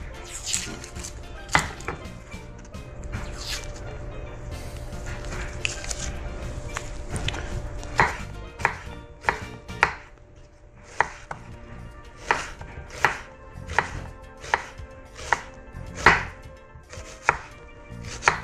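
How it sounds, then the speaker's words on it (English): A knife minces onion on a cutting board for guacamole, giving a run of sharp, close chopping taps, loose and irregular at first, then settling into a steady rhythm, with no one talking. "I'm trying to mince it as small as I can. We don't want big chunky pieces of onion in our guacamole."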